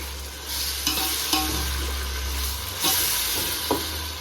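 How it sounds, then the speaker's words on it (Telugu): Mint and fresh coriander frying in oil for egg dum biryani: a steady, loud sizzling hiss broken by a few sharp scrapes and clinks of stirring, with no voices. "అందులోనే పుదీనా కూడా వేసుకున్నా. వేసుకొని అంతా ఫ్రై చేసుకుందాము."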